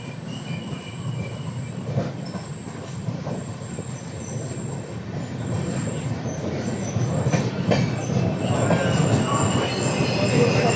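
The Pune-Howrah Azad Hind Superfast, an LHB-coach train, rolls into platform 1 at Champa Junction, a loud continuous rumble of wheels with squealing and clattering that builds toward the end.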